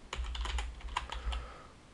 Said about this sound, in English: type procedural,